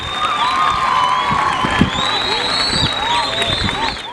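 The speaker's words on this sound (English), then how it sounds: "So please give them a round of applause for bringing this amazing initiative to your school." School students at a high school assembly cheer, shout and whoop loudly, a lively crowd of young voices with some clapping mixed in throughout.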